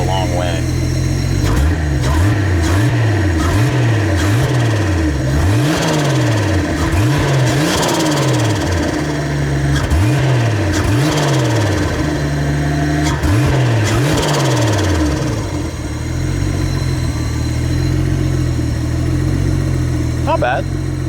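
An old, long-idle Toyota engine runs loud and close, its throttle blipped into repeated rising-and-falling revs before settling back toward a steady idle.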